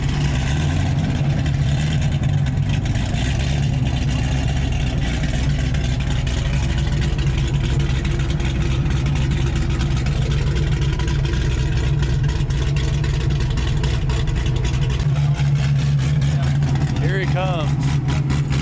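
Sports cars at a TX2K car meet, including an Audi R8, a green Lamborghini Huracan and a Corvette ZR1 with a parachute, rumbling together in a loud, continuous low growl, with a voice talking over it near the end.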